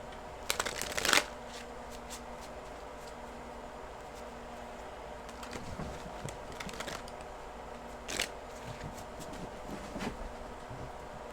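A deck of cards is shuffled in a quick riffling burst near the start, followed by softer card handling, bridging and tapping sounds in a quiet room.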